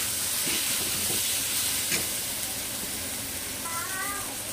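Onion, garlic and spices frying in a pan for an aloo gobi dish, a steady close hiss and sizzle running evenly throughout, with faint clinks of stirring underneath.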